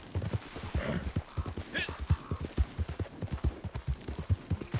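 Horse hooves clip-clopping in a video game, a rapid, steady, close and loud trotting rhythm that fills the whole stretch with no voices.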